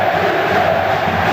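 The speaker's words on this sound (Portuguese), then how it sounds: "A torcida não, a torcida grita." Dense stadium crowd roaring and shouting at a 1998 Vasco versus Flamengo Brazilian league football match, a loud, continuous wall of massed voices with no single speaker standing out.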